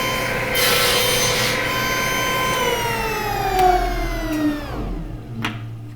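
A saw cuts through a piece of wood clamped against a fence for a ring project, a steady grinding whine held for about four seconds before dropping in pitch as the blade spins down, with a couple of faint knocks after.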